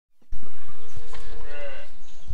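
Calves mooing inside a calf carrier while being moved on a dairy farm, a close, loud drawn-out bawl with a rising and wavering pitch that fills most of the short clip.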